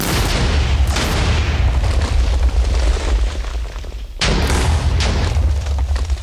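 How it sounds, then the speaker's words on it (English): A small explosive blast in Minecraft with the ICBM mod, a loud sustained roaring rumble that drops out briefly and then surges back. "a small explosive goes off which plants you in a hole"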